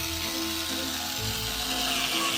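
Screws driven into a large motorized skeleton skull give a close, continuous grinding whir, like a power driver, with a faint ratcheting mechanical texture that shifts in pitch partway through.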